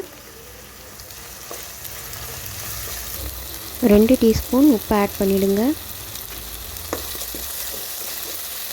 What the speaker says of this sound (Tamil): எண்ணெய் சூடானதும் நறுக்கி வச்ச 2 வெங்காயத்தை போட்டு நல்லா வதக்கிடுங்க